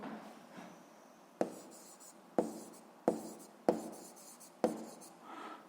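Pen or marker tapping and scratching on paper or a board while place names are written down, five sharp taps about a second apart, each followed by a brief scrawl, close and moderately loud.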